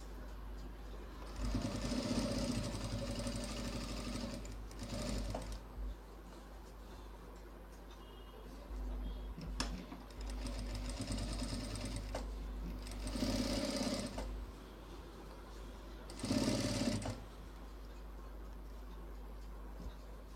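Sewing machine stitching the neckline of a designer blouse, running in several separate bursts of rapid mechanical whirring and ticking with quiet pauses between them, close and clear with no talking.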